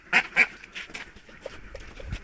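Domestic ducks being caught by hand, giving two loud, close quacking honks near the start, followed by softer, scattered calls and handling noise.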